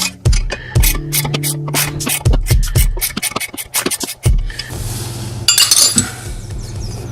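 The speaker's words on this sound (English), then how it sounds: "as I leverage this, you'll hear the brake rotor start to pop as that rust breaks free" Sharp metallic pops and clinks from a rusted brake rotor breaking free on a Nissan Skyline rear hub as it is levered, a series of loud close cracks in quick succession, then a rougher scraping stretch.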